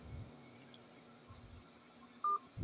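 Touch-tone keypad beep while calling an office voicemail line, a single short clear tone near the end over quiet background hiss, with low thumps around it.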